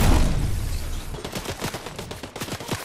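Gunfire in Fortnite Chapter 5: a heavy blast opens, then a rapid run of sharp shots rattles on steadily, loud and close, with no voices.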